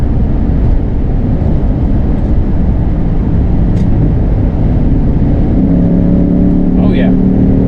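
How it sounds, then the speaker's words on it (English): A 2008 Lexus IS-F V8 engine drones loudly and continuously from inside the cabin under acceleration, rising steadily in pitch as the revs climb, with someone talking over it. "So I'll give it a little bit more gas. See the secondary intake kicking in again."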